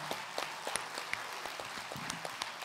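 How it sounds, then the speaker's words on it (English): A film festival audience applauds with scattered, uneven claps. Individual sharp claps stand out over a thinner, moderately quiet background of clapping. "let's give a big round of applause to everybody who worked so hard to put this event together."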